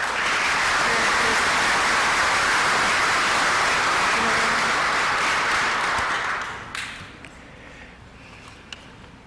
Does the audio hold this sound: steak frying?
no